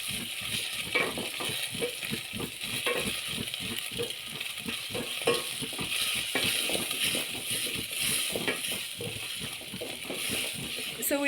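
Minced meat, carrots and spices frying in a pan, a steady close sizzle with stirring scrapes and rattles throughout, talk faintly underneath.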